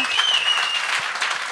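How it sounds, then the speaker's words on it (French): A live show audience breaks into warm applause for a guest, a brief, dense burst of clapping with a faint whistle near the start. "J'aimerais ça qu'on l'applaudisse."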